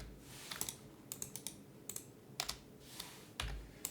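Keys clatter on a computer keyboard in quick, close clusters of taps with brief pauses between, quiet and clear over a faint background hum.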